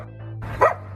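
A dog barking beside a car being parked, one short bark near the end over a steady low engine hum.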